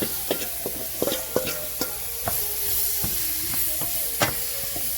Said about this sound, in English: Then I fry it up a little bit.